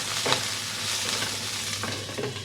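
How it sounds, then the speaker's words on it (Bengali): Onions sizzle and crackle steadily in a hot kadai on a gas stove, with a few stirring scrapes along the way. "পেঁয়াজটা হালকা ভাজা ভাজা হয়েছে"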